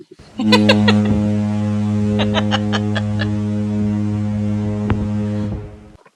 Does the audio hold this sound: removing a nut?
no